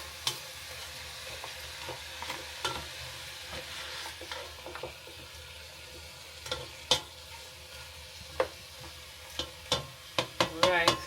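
Frozen vegetables and chicken stirred in a pan for a stir fry, with a steady low sizzle under scattered scraping and clacking utensil strokes that grow louder and more frequent toward the end; no talking.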